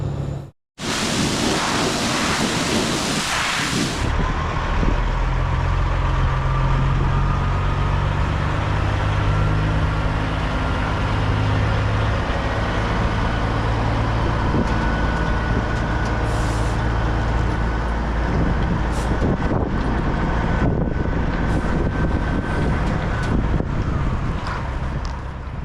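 Semi truck going through a commercial truck wash in Fernley, with a steady loud roar of spraying water and blowers, a brief burst of hiss at the start, and low rumbling throughout, no talking.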